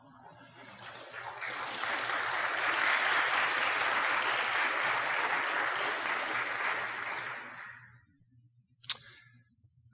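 A congregation at a church service bursts into applause that swells, holds steady for several seconds, then dies away into quiet, with a faint click near the end.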